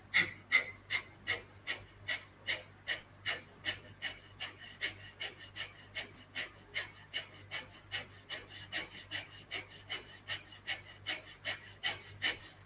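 Rapid pranayama breath-of-fire breathing, sharp forceful exhales snapped from the diaphragm in a steady, fast rhythm of about two per second, close and clear with no talking.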